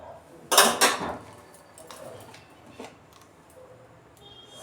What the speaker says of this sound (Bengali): এই যে ননস্টিকের একটা প্যান বসিয়েছি